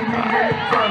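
Homecoming crowd at a North Carolina Central versus Morgan State college football game, roaring and cheering steadily as a dense wall of voices, loud and close throughout.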